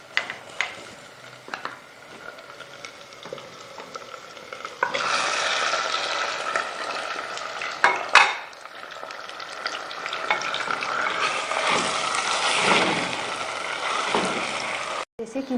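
Onion, garlic, ginger and minced meat sizzling and being stirred in a pan for green bhuna keema, a steady frying hiss with scraping spoon strokes, louder in bursts, with occasional quiet speech.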